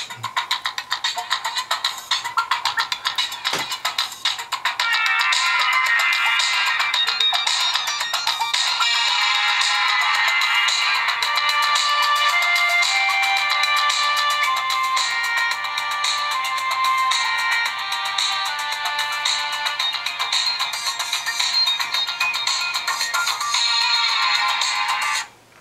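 Music playing loudly through the small built-in speaker of an ASTRA TP2101 Android tablet, bright and thin, running continuously near the microphone after a short quiet start.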